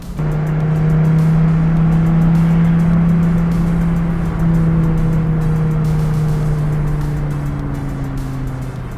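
A Dodge Viper GTS-R race car driving on a course, its engine giving a loud, steady droning roar held in one gear, with the pitch gently rising and falling as it drives, close and continuous with no talk.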